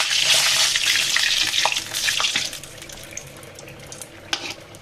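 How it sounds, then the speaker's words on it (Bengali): Pua pitha, a rice flour cake, fries in hot oil with a bubbling sizzle and occasional clinks as it is turned in the pan. The frying fades somewhat toward the end, and no one speaks. "এটাকে উল্টিয়ে পাল্টিয়ে আমি ভেজে নিচ্ছি"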